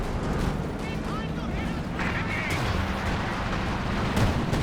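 Anti-tank gun fire in a Company of Heroes 2 match: dense battle noise with repeated heavy thumps and crackling shots, steady and loud, mixed with other combat sounds and a voice talking over it.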